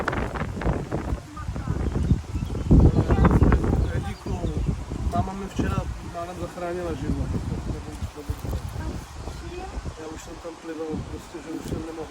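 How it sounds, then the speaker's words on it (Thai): Strong wind gusting outdoors while wild dok khae flowers are picked. It makes a steady, rough rustling roar that swells and buffets throughout, with louder bursts early on. "โอ้ยลมแรงเนาะ"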